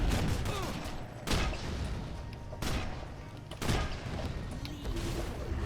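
Gunfire from a mid-range gun used at close quarters in DC Universe Online: three heavy thumping shots about 1.3 seconds apart over a dense background of game noise, loud and close.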